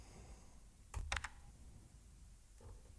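A password is typed on a computer keyboard: a quick burst of close, soft key clicks, then a lone faint tap, in an otherwise quiet room.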